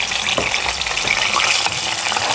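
Pieces of white pumpkin fry in hot melted ghee, giving a steady, close hiss of sizzling with faint stirring scrapes, heard alone with no talk.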